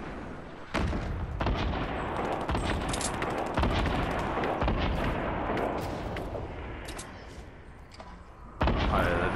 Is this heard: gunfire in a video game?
yes